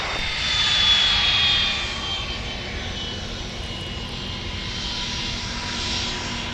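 A Boeing 717 jet with Rolls-Royce BMW engines at Minneapolis–St. Paul airport gives off a steady, broad engine roar with a faint high whine, swelling slightly early on and then holding level at moderate distance.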